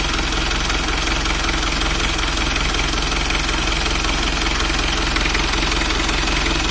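Isuzu Panther 2.3 diesel engine idling, a steady, close-up rumble with a fine rhythmic knock and vibration that holds unchanged and loud the whole time, with no voices.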